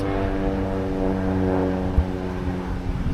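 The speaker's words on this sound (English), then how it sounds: "After every 2 minutes, it's a plane moving around." A propeller airplane passes over the Nairobi Safari Walk in Kenya, a steady, loud, humming drone that holds for several seconds with no one speaking.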